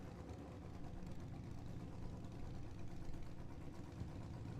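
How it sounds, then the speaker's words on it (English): A 2013 Harley and a 1978 Kawasaki drag racing motorcycles idling side by side at a drag strip, a faint low rumbling engine drone heard from a distance, steady throughout. "That's a 2013 Harley over there in the American Walk-In Coolers right-hand lane. Oler's on a 1978 Kawasaki."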